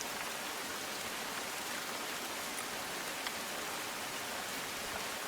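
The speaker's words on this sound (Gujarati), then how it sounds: "શહેરના જુદા જુદા વિસ્તારોમાં ધોધમાર વરસાદ વરસી રહ્યો છે" Heavy monsoon downpour over Bhavnagar city, a dense, steady hiss of rain falling on surfaces with no pauses, loud and continuous throughout.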